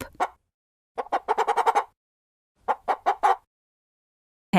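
Hen clucking in two quick bursts of short, rhythmic clucks, close and clear, separated by silence.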